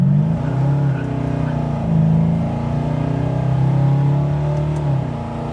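A 1970 Chevelle SS engine pulling through the gears on a test drive, a loud close drone that rises and drops as each shift comes, steady throughout with no talking.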